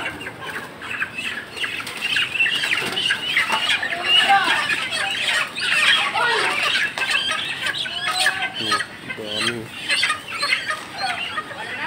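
Chickens cluck and squawk at a busy market poultry stall where birds are slaughtered, with voices talking throughout and occasional wing flaps.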